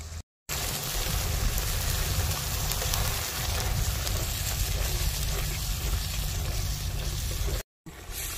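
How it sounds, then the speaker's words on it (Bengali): Cashew and poppy seed paste bubbling in a pan, a dense, loud, continuous hiss and spatter close by that cuts out briefly at the start and near the end. "খুব সুন্দরভাবে পোস্তটা ফুটছে"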